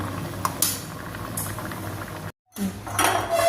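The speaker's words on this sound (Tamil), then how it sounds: "நல்லா இப்போ கொதி வந்துருச்சு" A pot of yam buttermilk curry bubbles and simmers at low volume with faint clinks of utensils, briefly cut off to silence before the boiling resumes.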